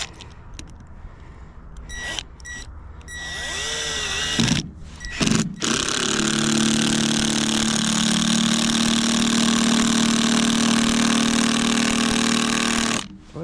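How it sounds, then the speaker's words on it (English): A power drill drilling through wood whines up after a few short bursts, then runs steadily and loudly for several seconds before stopping abruptly. "See, so we'll drill through here."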